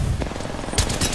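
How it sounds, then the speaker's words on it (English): Enemy gunfire in a video game: quick bursts of automatic shots crackle in a close, rapid rhythm, with a brighter, louder volley near the end. "The enemies are shooting at me."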